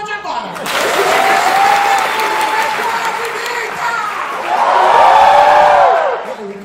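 A theatre audience at a comedy show breaks into loud applause mixed with cheers and whoops, two swelling bursts of clapping and shouting close and full.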